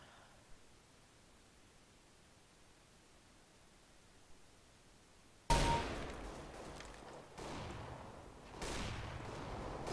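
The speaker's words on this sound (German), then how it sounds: "Shotgun." Gunfire in the shooter game CS:GO, loud broadband blasts arriving abruptly after a quiet stretch, then several more bursts swelling and fading over the remaining seconds.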